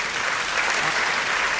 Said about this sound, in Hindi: आप दोनों हाथ उठाकर जोरदार तालियों के साथ संपत जी का स्वागत करें